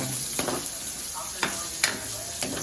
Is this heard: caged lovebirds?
no